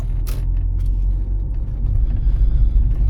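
A car pulling away on a street during a practical driving test, a loud steady engine rumble close by that swells slightly as it accelerates, with a brief rattle near the start.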